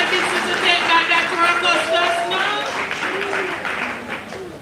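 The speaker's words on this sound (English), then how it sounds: "What a clap, thank you." Town hall meeting audience applauding, a burst of clapping that fades over a few seconds while a speaker's voice carries over it.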